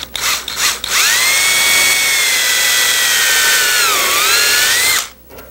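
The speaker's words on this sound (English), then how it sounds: "Start with an undersized bit until I can chip away that original dowel." Power drill boring out an original dowel in an antique furniture frame with an undersized bit, a steady loud whine lasting about four seconds with a pitch dip near the end, preceded by brief handling noises.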